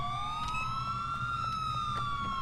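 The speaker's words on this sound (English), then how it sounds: "I guess it's the ambulances." Wailing emergency sirens of ambulances in the LCPDFR police mod for a video game, rising and falling tones layered together, steady and moderately loud with no talking.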